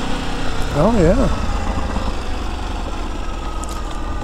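A 2022 Ducati DesertX motorcycle runs underway with a steady engine drone and wind rush beneath a rider's brief voice, the engine tone holding continuous and fairly loud throughout.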